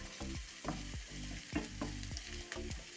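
Onions with turmeric powder sautéed over medium flame in a pan, with repeated rhythmic scraping stirs over a continuous close sizzle and no voices.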